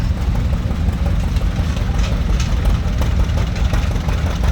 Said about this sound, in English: a John Deere A on steel from Manning, Iowa